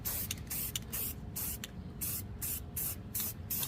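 Rust-Oleum spray paint hisses from a can onto a metal plant stand in a series of short, steady bursts, close and fairly loud.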